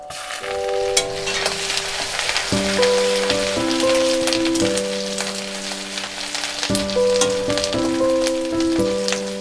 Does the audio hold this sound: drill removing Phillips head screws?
no